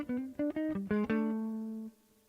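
A minor bebop guitar lick played live, a quick run of about seven clean picked notes ending on a held note that rings out and fades, close and unaccompanied.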